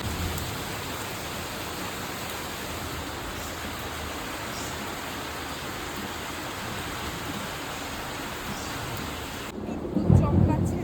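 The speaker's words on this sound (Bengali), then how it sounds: "এত বৃষ্টি হচ্ছে, কী করে স্কুলে যাব আমি বুঝতে পারছি না" Heavy rain pours in a loud, steady hiss, and a deep rumble of thunder swells near the end.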